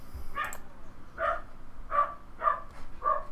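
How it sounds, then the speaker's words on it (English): A dog barking at home in the Third Age: Divide & Conquer game's Erebor campaign: five separate barks or yips, evenly spaced about every 0.6 seconds, moderately close with a quiet background. "If the dog's barking."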